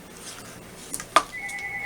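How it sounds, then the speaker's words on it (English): A mobile phone starts ringing during an acrylic pour painting session. A steady electronic tone sets in after a couple of faint clicks and holds on at moderate volume. "And there's my phone, sorry about that."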